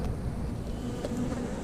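Honeybees buzzing at an open hive during an inspection, a dense, continuous low hum of many bees close by, steady and without talk.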